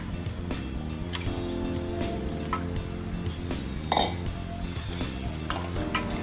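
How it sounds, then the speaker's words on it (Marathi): Soybean kheema stir-fried in a little oil in a pan, a steady close sizzle with repeated scraping and clinking of a spatula against the pan throughout. "आता आपण याच्यामध्ये खिमा टाकून घेणार आहोत आणि तो एकसारखा परतून घ्यायचा"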